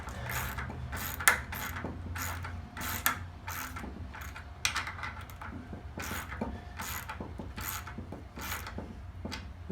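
A screw is tightened into the corner of a lightweight hobby table with a ratcheting driver, giving bursts of dry, clicking ratchet strokes close up over a low background hum, with no talk.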